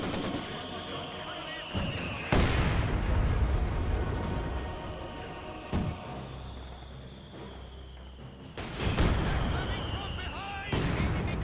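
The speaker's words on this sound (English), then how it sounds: "Great mortar hit there onto the MG42." Mortar rounds hitting an MG42 position in Company of Heroes 2, with several loud booming blasts and rumbling gunfire in a battle scene, repeated impacts over a steady din.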